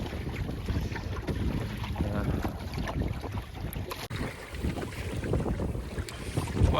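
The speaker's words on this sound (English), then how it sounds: "the wind's really picked up properly here." Strong wind buffets a sailing boat at sea, a steady broadband rush of wind noise across the microphone with water movement beneath, loud and continuous throughout with no speech.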